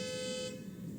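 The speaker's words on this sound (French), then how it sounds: "Klaxon." A car horn in a video game gives one short, steady toot that holds for about half a second and then cuts off, leaving quieter background noise.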